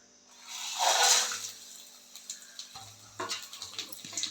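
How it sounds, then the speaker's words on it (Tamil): Dried chillies, pepper, cumin, cashews, cinnamon, cloves and cardamom dropped into hot oil for mutton kuzhambu, a loud burst of sizzling that fades into quieter crackling and stirring clinks. "இது எல்லாமே வந்து இப்போ நம்ம இந்த எண்ணெயில் போட்டு வதக்கிக்க போகிறோம்"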